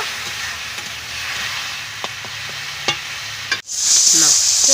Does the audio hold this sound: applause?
no